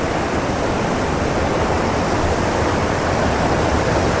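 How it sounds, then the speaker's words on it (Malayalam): Loud, steady rush of a mountain waterfall or stream foaming white over rocks on a Karanatha road trip, a dense unbroken roar heard close with no voices. "ഈ വെള്ളത്തിൻ്റെ സൗണ്ടാണ് നമ്മൾ വണ്ടി പാർക്ക് ചെയ്ത് അവിടെ നിന്ന് കേട്ടത്."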